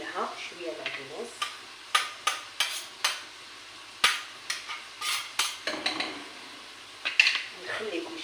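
Parsley and other ingredients are stirred while frying in a pan, with repeated close clinks and scrapes of a utensil against the metal over a soft sizzle.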